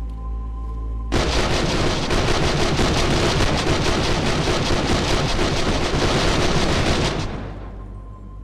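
A massed volley of gunfire erupts in DayZ after a quiet pause, a loud, unbroken roar of many weapons firing together for about six seconds before it fades away.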